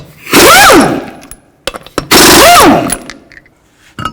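Pneumatic impact wrench with a 21mm socket removing lug nuts from the front wheel of a 2003-08 Toyota Matrix: two loud, close rattling bursts about half a second long, each rising in pitch as the nut spins free, separated by brief clicks.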